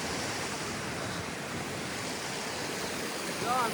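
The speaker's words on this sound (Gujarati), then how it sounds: "વેતું પાણી છે" Steady rushing water fills the whole stretch, a continuous broad wash of flow with no pauses, fairly close.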